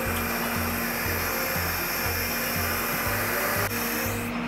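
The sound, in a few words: hydraulic boom of Terex XT Pro 60 bucket truck rotating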